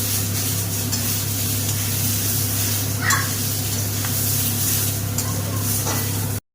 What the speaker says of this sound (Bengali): দেখুন মশলার সাথে ভালো করে বাঁধাকপিটাকে কষিয়ে নেওয়া হচ্ছে